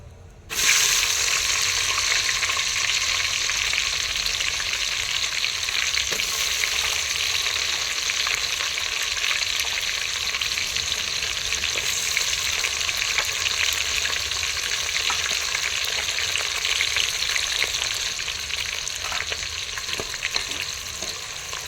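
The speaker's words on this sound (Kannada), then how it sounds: "ಚೆನ್ನಾಗಿ ಫ್ರೈ ಆಗುತ್ತೆ ಉಳ್ಳಾಗಡ್ಡಿ ಬ್ರೌನ್ ಕಲರ್ ಬರೋವರೆಗೂ ಇದನ್ನ ಫ್ರೈ ಮಾಡ್ಕೋಬೇಕು" Onions frying in a pan for a village-style chicken biryani, a steady, close hiss of sizzling oil that runs unbroken throughout, with faint stirring scrapes now and then and no voices.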